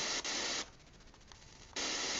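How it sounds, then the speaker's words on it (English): Radio static hisses from a Bluetooth speaker as stations are searched, loud broadband noise that drops to a faint hiss in the middle before surging back. "I usually get the static, but I don't get anything in between it."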